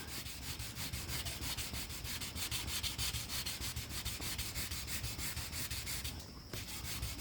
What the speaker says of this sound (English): so it's going to take a bit of sanding here to get rid of this ridge.